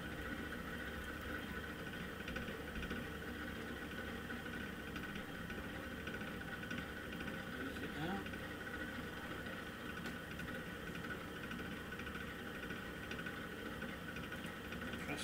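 An electric potter's wheel motor spins as clay is thrown into bowls, a steady low hum with a faint whine, quiet and constant, with a brief scrape partway through.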